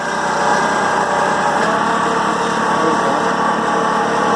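A Kubota tractor engine revs under throttle, a loud, continuous rough drone held steady for several seconds.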